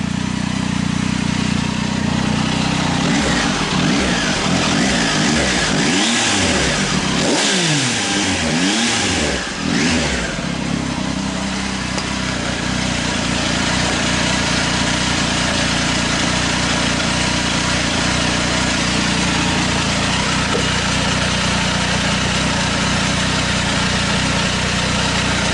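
A 2019 Triumph Tiger 800 XRT with a Fuel Diablo carbon muffler, baffle fitted, revs loudly close by, with several throttle blips in the middle before settling back to a steady idle.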